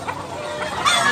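A Tasmanian hen clucks repeatedly at close range at a Tabunok, Cebu poultry market, with the clucking growing louder and busier toward the end amid general background noise.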